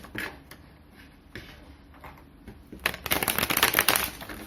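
A deck of oracle cards is cut and handled, first with a few soft isolated taps and flicks, then with a dense burst of rapid riffling and slapping of card edges near the end, heard close up.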